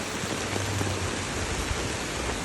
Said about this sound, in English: So all that like drizzling light rain and very strong wind